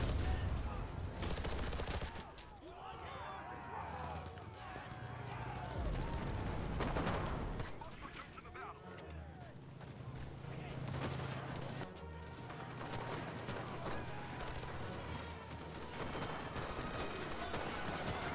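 Rapid gunfire and bursts rattle through a World War II battle in Enlisted, set in Berlin, dense and continuous over a busy, layered din of combat.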